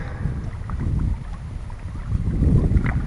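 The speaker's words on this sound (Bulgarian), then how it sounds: "Вятъра се поусилва" Wind blows across an unfamiliar lake during a fishing trip, making a steady, gusty low rumble on the microphone with faint water movement mixed in. It grows slightly stronger toward the end, and no one speaks.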